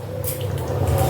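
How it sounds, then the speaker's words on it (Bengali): Fried prawns drop into a simmering curry gravy for a prawn malai curry, making a brief, close, soft wet squish and drip with a low bubbling underneath. "এবার আমি ভাজা চিংড়ি মাছগুলো এর মধ্যে দিয়ে দেবো"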